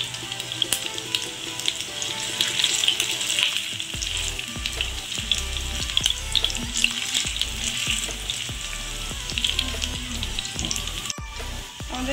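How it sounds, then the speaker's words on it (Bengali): Noodle pakoras frying in oil on low heat give a steady, dense sizzle throughout, with occasional light clicks and scrapes from the pan and no voices. "আমি কিন্তু কম আঁচে ভাজবো।"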